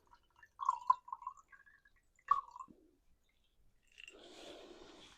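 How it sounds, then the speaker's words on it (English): Soaking water poured off pea seeds, with a couple of soft splashy drips early on and a longer trickling pour near the end, quiet and close. "So I'm going to pour the water out."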